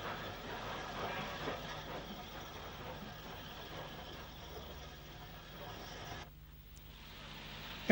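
GNR SG Class 0-6-0 steam locomotive No. 176, built in 1913, running on a wintry day toward Warrenpoint, with a steady, moderately loud rumble and rattle of the train that drops away abruptly near the end.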